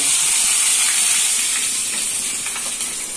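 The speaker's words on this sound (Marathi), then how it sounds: "तेल तापायला लावलेलं आहे. तर आपण त्याच्यामध्ये थोडस हिंग टाकतोय" Asafoetida, mustard seeds and curry leaves sizzling in hot oil for a chutney tempering, a loud, close, steady hiss and crackle with no voices.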